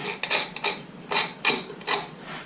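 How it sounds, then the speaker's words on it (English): A wire clamp is screwed in on a workbench, heard as a few short close ratcheting, scraping twists in quick succession, with no talking. "So as simple as just unscrewing this, kind of coming in here, screwing that in."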